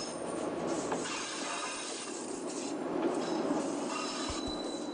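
A light rail vehicle runs on the old railway in Cariri, Brazil, a loud, steady rumble with a broad hiss of wheels on track and brief squeals, heard close and without any talk.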